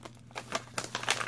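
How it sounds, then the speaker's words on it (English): Thick plastic bead bags crinkle and rustle close by in a few quick, soft handling bursts, fairly quiet and with no talking. "You can even hear it by the crinkling that they're really thick."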